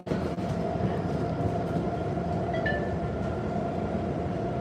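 Inside a moving train, a steady low rumble and rattle of the carriage fills the space continuously, with a faint brief squeal partway through and no talking.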